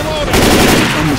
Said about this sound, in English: A machine gun?